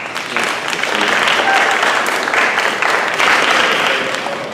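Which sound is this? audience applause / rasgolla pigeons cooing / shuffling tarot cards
audience applause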